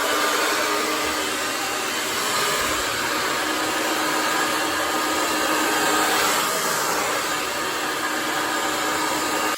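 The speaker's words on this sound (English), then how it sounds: "I'm going to go through and I'm going to start blow drying." A hair dryer blows on damp hair at close range, a loud, steady whooshing roar that runs continuously with slight changes in tone as the airflow shifts.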